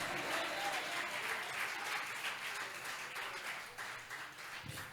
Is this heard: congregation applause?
yes